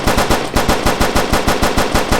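A gunshot sound effect fires in rapid repetition inside a game under development, sharp loud bursts roughly every tenth of a second like machine-gun fire, with no talking.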